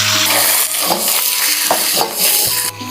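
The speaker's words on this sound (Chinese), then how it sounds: "油热，把肉倒进去" Pork pieces tipped into hot oil in a wok for Sichuan red-braised pork, giving a loud, close, sustained frying hiss broken by a few metallic clinks and scrapes of the pan.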